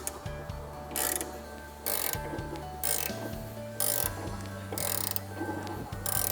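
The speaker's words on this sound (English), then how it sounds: "So right now I'm going to go ahead and tighten this up and show you how that's done." A wrench ratchets in repeated bursts of clicking as blade tension is tightened on a Wood-Mizer LX25/LX55 portable sawmill, the mechanical clicks coming close and steady with brief pauses between strokes.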